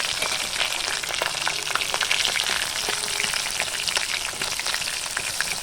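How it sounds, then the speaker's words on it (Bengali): Fish frying in hot oil in a wok (kadai), a steady dense sizzle with crackling pops running continuously and loud, close up, with no talking. "এবার তেলটা গরম হলে আমি মাছটা ছেড়ে দেবো"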